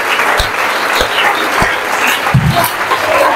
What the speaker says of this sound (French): Nous te ferons des acclamations comme action de grâce